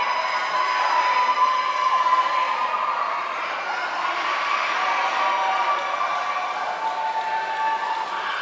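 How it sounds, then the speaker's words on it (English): Roller derby crowd cheering wildly at a live indoor bout, a loud, sustained roar of many voices that swells and holds steady throughout, with no distinct speech standing out. "The crowd is going wild."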